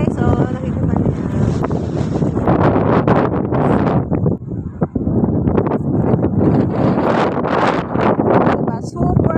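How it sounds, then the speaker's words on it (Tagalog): Strong, cold wind blowing outdoors, roaring and buffeting the microphone in loud uneven gusts with a brief lull midway, while people talk underneath. "Super hangin."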